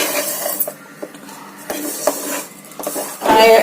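A spoon scraping and stirring dry rice flour as it roasts in a pan, irregular rasping strokes up close, ending in a louder sizzling scrape.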